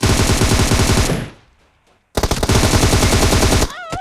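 Automatic gunfire in the mobile shooter PUBG Mobile on the Miramar map rattles loud and close in a rapid burst, cuts off into a second of near silence, then resumes with another sustained volley.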